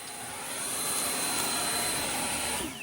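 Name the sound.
Ego Commercial LBPX8006 leaf blower running on turbo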